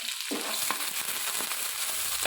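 Green chillies fry in hot oil in a pan for a curry, a loud, continuous close sizzle with occasional stirring scrapes and no talking.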